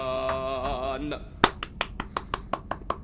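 A voice sings a sustained note, then hands clap about eight times in a steady, slightly uneven rhythm, close and fairly loud.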